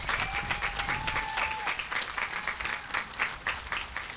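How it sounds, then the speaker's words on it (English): Crowd applauding a national champion American Legion band and its director at an outdoor Memorial Day cemetery ceremony, lively clapping with a brief tonal whistle-like sound early on. "why don't we give the band and their director, Mike Fisk, a nice round of applause"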